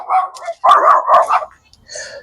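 A young puppy in a garden gives a quick series of close, fairly loud yappy barks and yips, a few bunched bursts followed by a brief pause and one softer, higher whine-like call at the end.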